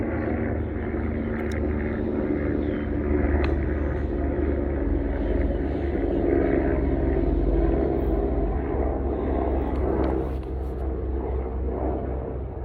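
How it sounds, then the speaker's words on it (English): A helicopter flying by overhead outdoors, a steady moderate rotor-and-engine drone holding for several seconds before gradually easing off, with no one talking. "It's a helicopter."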